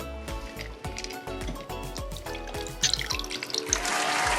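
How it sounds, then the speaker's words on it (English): Gin cocktail poured from a shaker into a glass, a close liquid splash and trickle rising toward the end over soft background clatter. "Here's my pour. My pour is coming."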